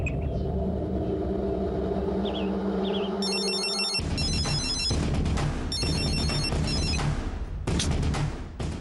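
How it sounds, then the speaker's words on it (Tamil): A telephone rings with repeated electronic ring bursts, loud and near, over a low rumbling background during a television serial scene. "இந்த விஷயத்த விஜய் சாருக்கு ஃபோன் பண்ணி சொல்லிடலாம்."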